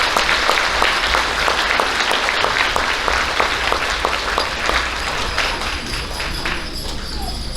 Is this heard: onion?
no